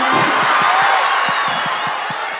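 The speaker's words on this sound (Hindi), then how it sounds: "कमजोर तालियां हैं" Thin, scattered applause from the audience at a Hindi-Urdu poetry recital, a soft, steady patter of clapping with a few isolated sharper claps and faint crowd murmur.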